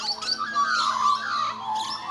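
A single Australian magpie sings its territorial call nearby, a sliding, warbling carol lasting a couple of seconds against a faint steady hum.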